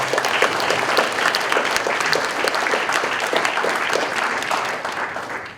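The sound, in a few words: audience applause at spelling bee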